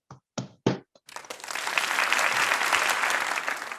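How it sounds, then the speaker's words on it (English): Applause for a speaker at a virtual spring 2021 engineering school commencement, opening with a few separate claps, then swelling into steady sustained clapping from many hands. "Please join me in welcoming Elizabeth with a round of applause."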